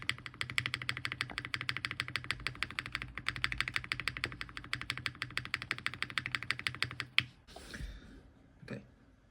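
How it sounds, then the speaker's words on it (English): Rapid typing on a TGR Tomo mechanical keyboard fitted with Cherry clip-in stabilizers, a dense run of crisp clacks close up, ending in a few slower, louder key strikes. "that demonstration was on my TGR Tomo and it had cherry stabs"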